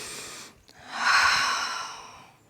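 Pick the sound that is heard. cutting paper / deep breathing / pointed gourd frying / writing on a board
deep breathing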